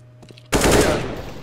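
Burst of automatic gunfire in the Counter-Strike video game erupts suddenly after a brief quiet lead-in, loud and dense with rapid overlapping shots that trail off into a reverberant tail.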